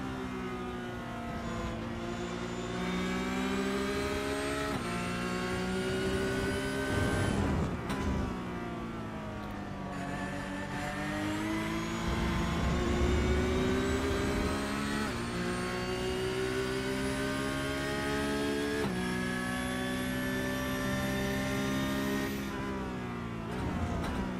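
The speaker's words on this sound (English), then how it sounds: "just to hear the sweet sound of this 992 Porsche Cup car" A Porsche 992 Cup race car engine screams onboard at the Sachsenring, revving high through the gears with sharp downshifts and rises in pitch, loud and continuous with no talking.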